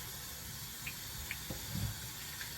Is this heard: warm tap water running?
yes